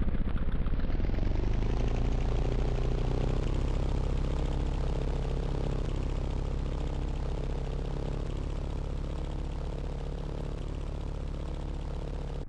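Simulated RC airplane engine in the FMS flight simulator, a loud continuous buzzing drone that settles from a higher pitch into a steady hum, with no talking.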